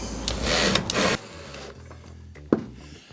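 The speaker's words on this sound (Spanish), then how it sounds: "estamos atornillando, tal como dice el manual, con tornillos TA41" Side panel of a garden storage shed being fastened with TA41 screws: a dense whirring drill burst for about a second, then quieter handling noises and a sharp knock partway through.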